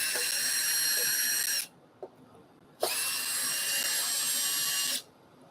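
A power drill backing screws out of timber on a resin and yew coffee table, two sustained high-pitched whirring runs close by, separated by a short pause with a small knock.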